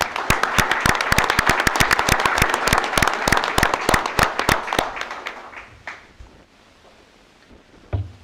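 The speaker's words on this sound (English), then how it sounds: "How about a round of applause for Catherine?" A room full of people claps in a dense burst for a student honoree at a school board of education meeting. The applause runs steadily for several seconds, then thins out and fades, leaving near quiet.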